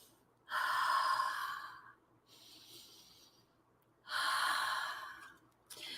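Close, loud breathy sniffs at crayons come in two long inhales with a softer exhale between them, and a third sniff starts at the end, all in a quiet room.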